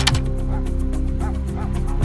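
A dog barks repeatedly in a TV show scene, with short yapping barks scattered across the two seconds over a steady low background.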